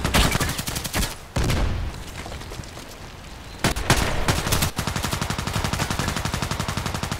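Sig Sauer MPX submachine gun firing in the shooter game Contract Wars: loud bursts of rapid automatic fire broken by brief pauses, ending in a long sustained string of shots.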